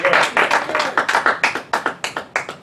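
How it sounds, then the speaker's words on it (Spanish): A church congregation claps together in a steady, even rhythm of about two beats per second. The sharp, loud claps ring close in a hall with no voices over them. "Dale un aplauso a Dios."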